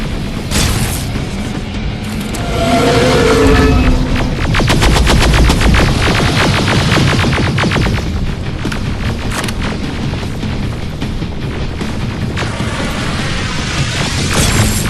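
Explosions in the Terminator Resistance shooter, with rocket and grenade blasts: loud booms and crashes mixed with rapid gunfire in a chaotic, continuous battle.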